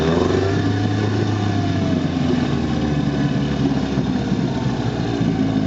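A 1960 West Bend 12 hp outboard motor runs steadily, a close, even engine drone with a low rumbling tone that holds throughout with no talk.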